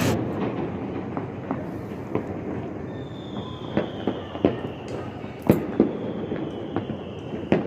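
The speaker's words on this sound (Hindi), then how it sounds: "बहुत ज़्यादा पटाखों की आवाज़ें आ रही है" Diwali firecrackers pop and bang at a distance in scattered, irregular bursts over a steady outdoor rumble, joined midway by a thin, high, drawn-out whistle.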